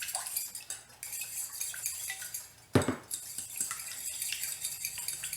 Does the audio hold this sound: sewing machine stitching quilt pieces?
no